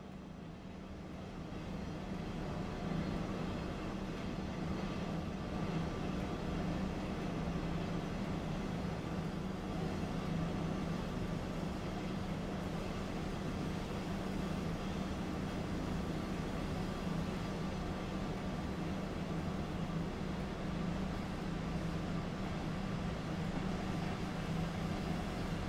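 Steady rumble of a double-deck passenger coach hauled by a BR 146.2 electric locomotive in Train Sim World 2, heard from inside the carriage on the Main-Spessart line: a continuous low droning roll with constant loudness and no voices.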